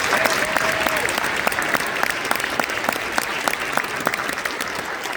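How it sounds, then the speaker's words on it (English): Applause for the faculty at a University of Maine symphonic concert, a loud sustained wash of many hands clapping with a few faint voices mixed in. "So let's give the faculty a big round of applause."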